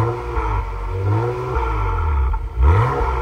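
A 2023 Acura TLX Type S rumbles steadily with a deep quad-exhaust note, swelling into a brief rev near the end; close and fairly loud, no talking.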